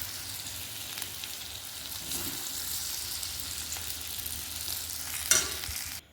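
Vegetables tipped into a pan of cooking dal for semolina khichdi, a steady soft sizzle and stir running throughout, with a brief clink near the end.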